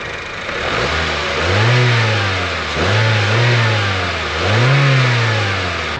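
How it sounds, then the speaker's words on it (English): A 2012 Honda Civic car engine revs three times in smooth rising-and-falling swells over a steady idle, close and fairly loud, with no talking. "Let's fire it up or rev it up a little bit, and I'll show you just how nice this thing sounds too."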